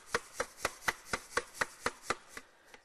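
A sieve holding an oven-dried, washed soil sample is shaken back and forth, giving about ten evenly spaced gritty rasping strokes close by that fade out at the end. No talking.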